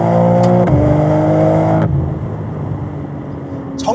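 BMW M3 accelerating hard, a loud rising engine roar with harmonic tones that climb and shift once before cutting off abruptly into a quieter steady hum.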